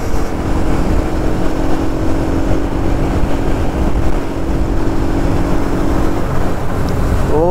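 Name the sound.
motorbike riding fast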